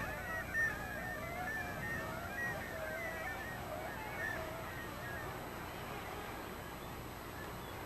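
Arctic seabird colony of Brünnich's guillemots and kittiwakes nesting on inaccessible cliff ledges above boulder slopes, a continuous busy chorus of overlapping calls and honking cries, steady and moderately distant, with a voice speaking over it.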